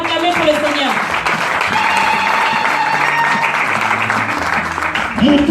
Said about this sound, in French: Alors acclamez pour le Seigneur.